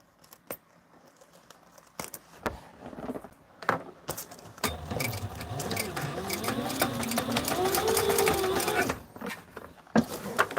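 A Sailrite sewing machine runs in a stretch of steady whirring stitching while flight suits are mended, preceded and followed by scattered clicks, taps and handling noises at close range.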